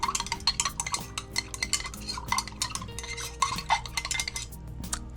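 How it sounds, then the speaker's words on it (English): A stirring rod mixes betaine powder into a hydrating facial toner, making a steady, busy run of quick clinks and scrapes against the container that carries on with no pause, close and clear. "I'm using a stirring rod here"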